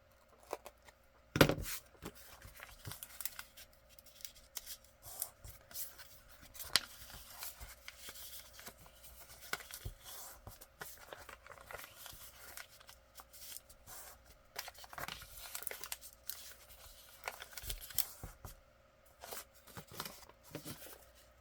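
Scissors trim brown paper for envelopes, quiet crisp snips and papery rustling in irregular bursts, close by.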